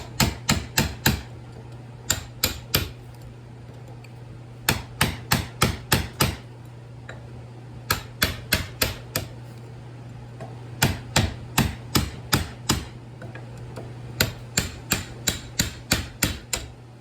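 A punch is hammered to scrap a transformer, with sharp metallic strikes in quick bursts of four to six blows separated by short pauses, close and clear with no talking.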